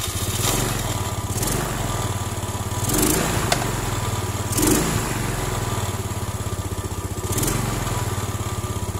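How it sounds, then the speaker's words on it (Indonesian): Carbureted Yamaha Mio scooter engine running after being started, a steady close putter at idle with a few brief louder rev bursts, heard alone without talk. "Kita akan coba langsung hidupkan motor ini,"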